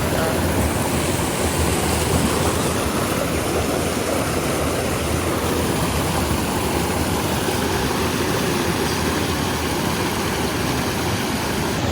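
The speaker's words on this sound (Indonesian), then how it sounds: "Ntar gua rekam sungai ini" Steady, broadband rush of river water flowing on Mount Kahung, continuous and fairly loud across the whole stretch, with no voices over it.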